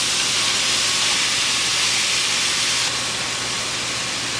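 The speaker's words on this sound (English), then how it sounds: "You want to break up your ground beef as you're cooking it." Ground beef cooks in a pan with a loud, dense, continuous hiss and sizzle. The sound steps down slightly partway through, and no voices are heard.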